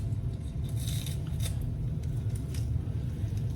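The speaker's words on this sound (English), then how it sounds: "I just use a pair of scissors and chop them in there" Scissors snip vegetables a few times in quick, light cuts over a steady low hum, fairly close and quiet.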